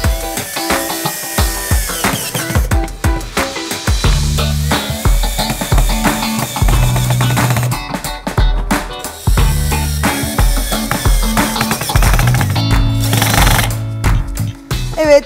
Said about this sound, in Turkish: Her bir tekerlek için 4 tane vida yerleştireceğim.